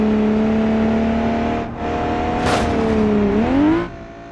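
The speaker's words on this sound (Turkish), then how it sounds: "Biraz sesi yüksek arabanın." A loud, steady Opel car engine drone in the video game BeamNG.drive holds a high pitch, dips briefly, then climbs as it revs up before cutting off.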